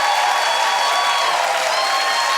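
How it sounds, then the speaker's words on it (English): Studio audience at a daytime talk show applauding and cheering, a dense, steady, loud wash of clapping that fills the whole stretch without a break. "a little louder, a little louder, a little louder. Clap. We have clap."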